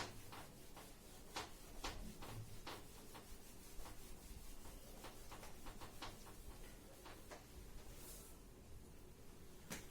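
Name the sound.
rubbing out writing on a board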